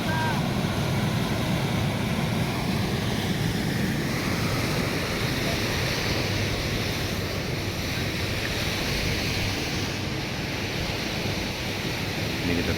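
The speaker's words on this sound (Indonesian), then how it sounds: "airnya udah mulai besar di sungai yang dibuat alam ini" Swollen Garoga River rushes loudly and continuously after rising, a dense close roar of churning water mixed with wind buffeting the microphone.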